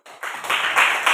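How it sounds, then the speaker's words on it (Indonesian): Classroom of students clapping their hands in a brief burst, several quick swells of dense clapping close by. "Ya, tepuk tangan dulu."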